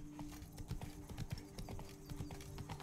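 Horse hooves clip-clop in a steady, rhythmic gait during horseback riding in Witcher 3: Blood and Wine, moderately loud over a constant game ambience.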